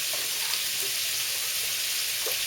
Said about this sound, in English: It's always good to stir everything.